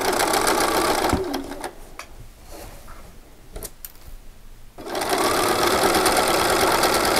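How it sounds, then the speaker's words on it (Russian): Sewing machine stitching a dress seam, loud and steady at the start, dropping to a quieter stretch with clicks and handling in the middle, then running at full speed again for the last couple of seconds. No talking. "Делаем закрепку, заходим и начинаем стачивать."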